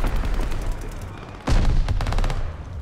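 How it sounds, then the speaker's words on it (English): Bombing run in an online war shooter, a sudden loud burst of blasts and rapid heavy gunfire that overlaps a continuous roar of battle noise, close and harsh. "There's a bombing run or something on me?"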